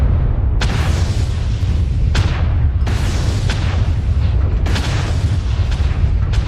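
Heavy, booming explosions of a destroyed mech in the game MechWarrior Online, loud and rumbling with several sharp blasts over a continuous low roar.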